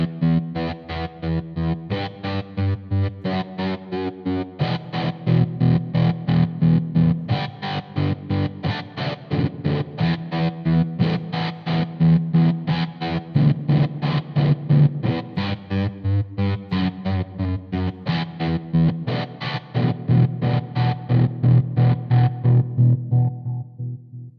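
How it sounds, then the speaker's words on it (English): Distorted electric guitar through a Marshall CODE 50 combo amplifier's Trematron tremolo effect, chords throbbing rhythmically and steadily throughout, loud and close with no voices. "This is the Trematron, and it's just tremolo madness"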